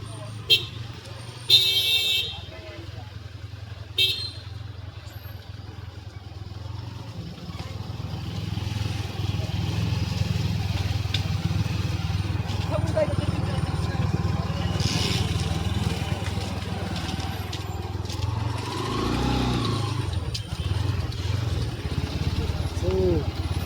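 Busy street traffic at a town square in Baramati: a steady rumble of cars and motorcycles, with a few short horn toots early on, and people talking close by throughout.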